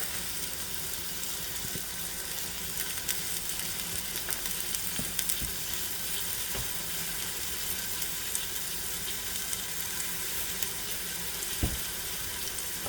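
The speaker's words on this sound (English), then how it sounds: "Saute this until the onions are soft." Onions sauté with garlic, salt and pepper in a pan, a continuous even sizzle at moderate distance with a few faint clicks of utensils and no talking.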